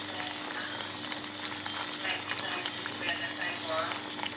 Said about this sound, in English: I actually ended up frying one ripe plantain